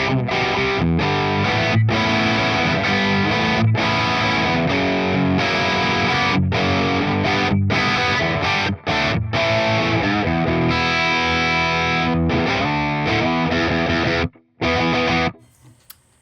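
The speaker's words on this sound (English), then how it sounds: "this is the LEWITT Boogie drive or LEWITT Boogie preset" Electric guitar played through a ToneX Mesa Boogie drive preset, a heavily distorted amp tone with thick sustained chords and riffs, loud and close, with a few short stops before it cuts off at the end.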